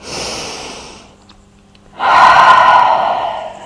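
Yoga breathing during a power vinyasa class: a long audible exhale fades into near silence, then a strong, close breath surges in and holds steady to the end, with no talking.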